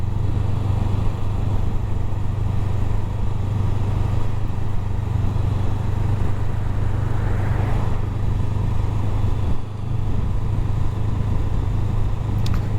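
Honda Rebel 500 cruiser motorcycle riding on a calm, cool day, its steady engine drone and road rumble continuous and close throughout, with a brief dip near the end.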